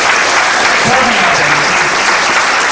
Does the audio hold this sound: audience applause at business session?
yes